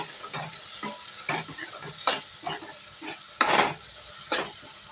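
A spoon stirs dry spices into tomato and onion in a hot pan, making repeated scraping and clinking strokes over a soft steady sizzle, up close and with no talking.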